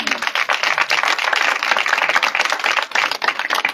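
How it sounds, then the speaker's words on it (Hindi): A church congregation claps loudly and steadily during a sermon, a dense run of many hands clapping together without pause. "जोरदार तालियां मारो।"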